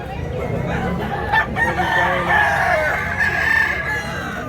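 A rooster crows among chickens offered for sale at a busy livestock market in Mantalungon, Cebu, its call rising over a steady crowd murmur and nearby talk.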